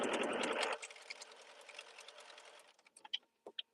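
A sewing machine strip-sewing quilt pieces runs in a fast continuous whir, then drops into slower, uneven stitching taps and a few sharp mechanical clicks as it stops, heard close with no talk.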